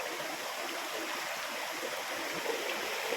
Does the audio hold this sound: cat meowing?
no